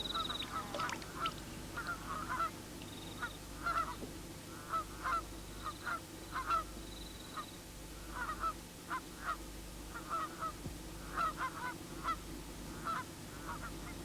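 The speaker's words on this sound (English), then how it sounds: "there's geese and a few Canada geese over there feeding on" Canada geese and other geese on a lake honk repeatedly in short, evenly spaced calls at moderate distance over steady outdoor background noise, with no talk.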